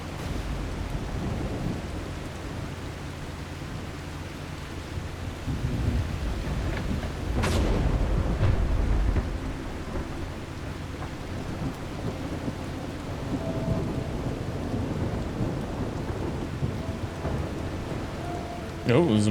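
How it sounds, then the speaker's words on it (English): Thunderstorm with steady heavy rain in the survival game The Last Caretaker, a continuous wash of rainfall with a sharp thunder crack near the middle followed by rolling rumble, and swelling gusts later on. "Very stormy."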